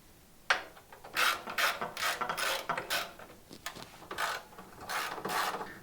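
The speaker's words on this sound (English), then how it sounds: "to remove the second cover, you'll need to remove the 2 bolts that are inside this hole here and this hole here" A ratchet clicks in quick, quiet bursts, turning out 12 mm bolts on a Toyota 4Runner underbody cover, with light metallic rubbing between strokes and no talking.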